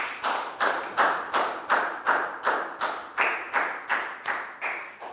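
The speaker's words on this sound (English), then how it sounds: "Big round of applause for Chu." A small group in a primary school classroom claps in a steady rhythm, about twelve even beats, close and moderately loud with no voices.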